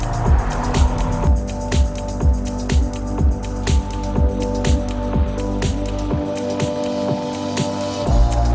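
A 1968 BMW 2002 driving on a road, heard from inside: a loud, steady engine drone with a rhythmic thumping pulse, road rumble underneath, easing slightly toward the end.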